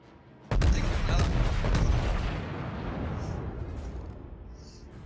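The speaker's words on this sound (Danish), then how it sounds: "Ironman, der ligger lige til en dobbeltbredside af 10 meter." A sudden deep boom of a warship's cannon broadside in a naval video game erupts and rolls on in a long rumbling wash of explosions, fading slowly with faint game sounds.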